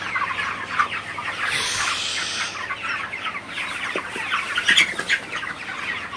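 Broiler chickens cluck and chatter in a crowded poultry shed during hot weather, many overlapping birds close by with a steady busy murmur and occasional louder squawks.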